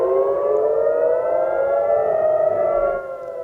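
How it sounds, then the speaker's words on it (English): A loud, steady air-raid siren wails continuously during a Hamas rocket barrage, its rising tone holding for the whole stretch, close and dominant with no voices. "Sirens blared just moments into 2024"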